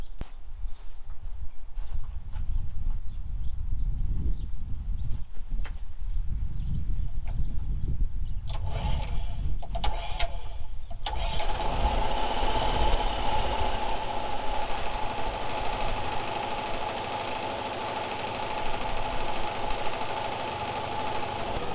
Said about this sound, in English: And I got my pull cord, which we're going to give a good pull now and see what happens.